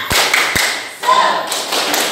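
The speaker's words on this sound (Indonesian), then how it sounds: "Kita tepuk semangat dulu." Children stand and perform a rhythmic spirit clap in a classroom, with a few sharp, loud claps and thumps spaced in a short pattern.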